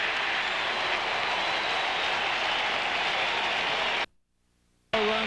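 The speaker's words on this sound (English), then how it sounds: "Cardinal fans applauding." St. Louis Cardinals baseball fans applaud in a steady, dense roar of clapping at a 2000 game against the Chicago Cubs, breaking off abruptly into near silence before the crowd noise returns.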